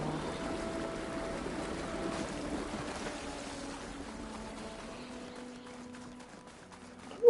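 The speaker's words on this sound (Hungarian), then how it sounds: "Hol folyik ez a víz?" Water flowing in the video game Horizon, a faint continuous trickling stream with soft tonal game sounds layered over it and no talk.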